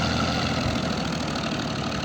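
Tractor engine idling and running steadily with a thresher attached, a continuous low rumbling drone at close range during a wheat threshing job, with no voices over it.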